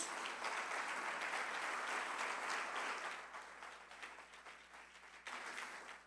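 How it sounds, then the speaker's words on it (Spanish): Sustained crowd applause fills a church service, dense and steady for several seconds before thinning slightly toward the end, with no voices over it. "Dale un fuerte aplauso al Señor Jesús."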